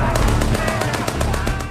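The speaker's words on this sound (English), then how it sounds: "Machine guns were waiting for us." Machine guns firing on a World War I battlefield near Amiens, heard as a steady run of sharp repeated bursts with low rumble underneath, loud and dense throughout.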